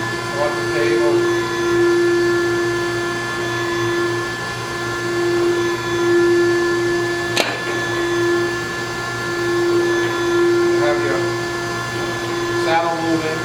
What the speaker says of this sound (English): I'll show you the machine running in manual. Start the table.